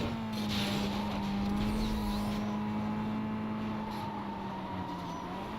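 A VW Golf engine in Need for Speed Most Wanted drones at a steady, loud pitch with a strong buzzing hum, racing along continuously with slight rises in revs and faint tire noise.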